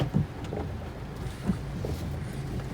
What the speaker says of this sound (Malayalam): നല്ല മഴയും കാറ്റും ഉണ്ട് ഇപ്പം